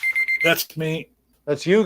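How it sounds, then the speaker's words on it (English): Alarm clock going off with a steady high electronic tone during a late-night talk show, sounding under two voices talking nearby before cutting out. "that is the alarm that goes off every night"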